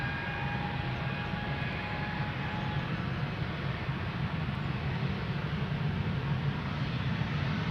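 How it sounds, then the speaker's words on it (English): An Embraer E2 airliner departs Amsterdam Schiphol for Trondheim, its engines a steady, fairly distant broadband roar that holds even throughout with no talk over it. "And there's an E2 Embraer to Trondheim now leaving."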